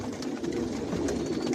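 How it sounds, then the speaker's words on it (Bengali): Imported racing pigeons of one Janssen line coo together inside a loft, a dense, continuous low murmur at steady loudness with no talk. "আর এগুলো সব বিদেশি কবুতর"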